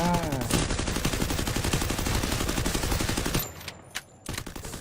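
Sustained rapid gunfire in the Free Fire video game during a custom night match, a loud continuous automatic burst that stops abruptly, followed by a few scattered quieter sounds.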